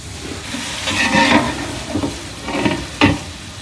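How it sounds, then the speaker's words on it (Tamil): Garlic and tomato rasam bubbles in a pot, with soft irregular boiling pops and bursts, a few louder ones, close and fairly quiet with no talk. "இது பாருங்க நல்லா கொதி திரும்புது."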